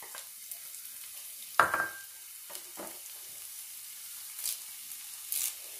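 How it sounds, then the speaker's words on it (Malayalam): Crushed garlic drops into hot oil for a brinjal masala fry, setting off a sudden loud sizzle that quickly settles into a steady hiss, with a few more short bursts of frying and stirring after it. "എണ്ണ ചൂടായി, അതിലേക്ക് ചതച്ച് വെച്ചിരിക്കുന്ന വെളുത്തുള്ളി ചേർക്കാം."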